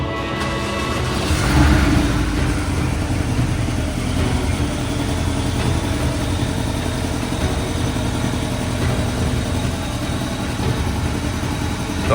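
A rebuilt, previously wrecked Porsche Cayman S cranks over and catches with a brief rev, then settles into a steady, loud, close idle that continues evenly for about ten seconds.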